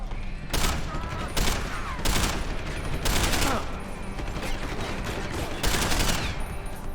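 Bursts of gunfire from the game Deus Ex: Human Revolution crack out at intervals, several loud clusters of rapid shots over a continuous background of game ambience and effects.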